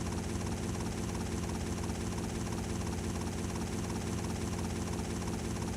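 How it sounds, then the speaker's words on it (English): Helicopter rotor and engine drone steadily and loudly in GTA Vice City Stories, a continuous close whir with a fast rhythmic chop, no talk over it. "I'm flying a helicopter."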